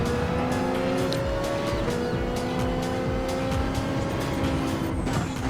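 Race cars at the Catalunya circuit in Gran Turismo 7, among them a Porsche and a Ferrari 458, engines roaring loud and steady with shifting pitch as the cars run close together, tyres squealing faintly.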